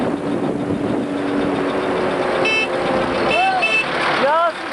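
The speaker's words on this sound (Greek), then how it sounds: "Βλέπετε το διαλυμένο αυτοκίνητο να κάνει μια φοβερή κούρσα." Wrecked car racing with a running engine, loud continuous rumble and road noise under someone talking, then a few short horn toots near the end.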